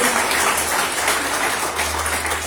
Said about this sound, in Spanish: Dale el aplauso al Señor Jesús, por favor